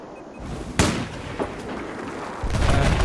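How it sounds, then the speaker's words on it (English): A rocket explosion and gunfire in the video game Battlefield 4 on the Flood Zone map: a sharp loud blast, then a lighter crack, over a constant roar of battle, ending in a heavy rumbling burst. "where'd that rocket come from?"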